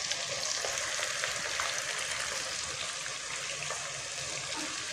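Chicken manchurian ingredients fry in a hot pan with a steady, continuous sizzle and crackle, even and close throughout, with no talking over it.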